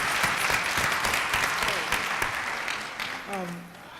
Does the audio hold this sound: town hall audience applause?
yes